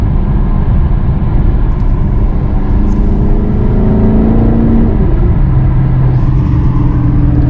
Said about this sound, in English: I can start giving a little bit of gas, let off, and just kind of tap the gas, and it starts to have a little burble